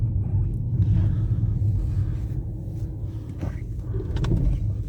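A Mini Cooper's engine rumbles steadily at close range while being driven through the gears, then briefly falters as it cuts out before running on again.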